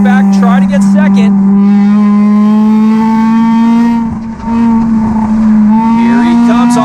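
NASCAR Division III enduro race cars roar past on an oval track, a loud sustained engine drone with a steady strong pitch that dips briefly as cars pass, with a race commentator talking over it.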